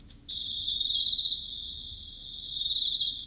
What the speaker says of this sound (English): This is an insect over here.